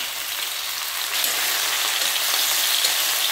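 Paneer and capsicum sauté in a pan with a steady, close, bright sizzle that stays even throughout, with no voices.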